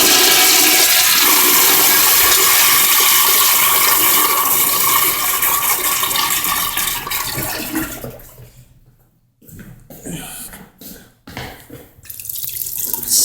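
An American Standard Afwall urinal from around 2009–2010 in a Macy's restroom flushing, a loud rushing surge of water that fades after about eight seconds into gurgles and trickles as it refills.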